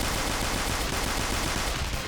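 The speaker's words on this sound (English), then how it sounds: "King Frost, and we get to shoot him" Rapid, dense gunfire from a Persona 5 battle against King Frost, a continuous loud burst of shots filling the whole stretch with no pause and no talking.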